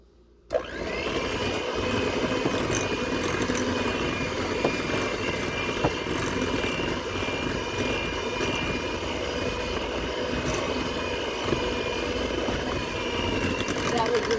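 Electric mixer running steadily on low speed, beating flour and orange juice into an orange cookie dough; a continuous close whirring motor hum that starts abruptly and holds level throughout.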